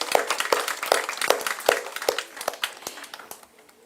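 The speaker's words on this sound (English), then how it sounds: "We should give you a big round of applause" An audience at a live satsang in a garden gives a short, fairly sparse round of applause, with steady rhythmic claps that fade out toward the end.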